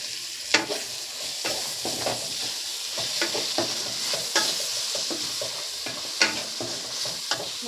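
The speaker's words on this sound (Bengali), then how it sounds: "নুন হলুদ দিয়ে মাছের মাথাটাকে ভালো করে পেঁয়াজের সঙ্গে ভেজে নেব।" A fish head fries with onion, salt and turmeric in oil, sizzling steadily up close while a spatula scrapes and knocks against the pan in irregular strokes.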